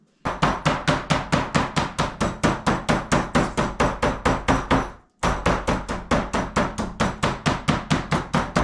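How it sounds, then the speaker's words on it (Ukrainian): Rapid, steady pounding of a meat mallet on meat covered in cling film, about three blows a second, loud and close, with one brief pause midway before the beating resumes. "харчовою плівкою і відб'ємо молоточком"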